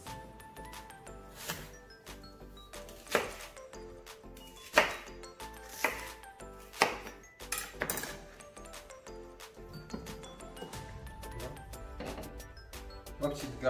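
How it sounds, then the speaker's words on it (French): A knife chops tomatoes into pieces on a cutting board, with sharp, irregularly spaced knocks and clinks close by under steady talk. "je vais couper mes tomates en morceaux"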